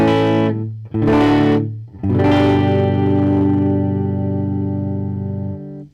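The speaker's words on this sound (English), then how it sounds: "Here's the clean sound again." Clean electric guitar chords through a Behringer DD600 digital delay pedal, delay off, ring out, two short strums followed by a long sustained chord that slowly fades.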